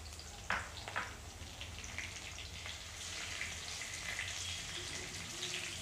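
Curry leaves hit hot oil while cooking sabudana khichadi, setting off a steady, moderately loud sizzle that swells and holds, with a couple of sharp spits near the start.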